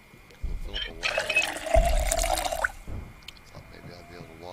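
Water filling a container in the video game Project Zomboid, a steady hissing pour lasting about two seconds, with talk before and after it.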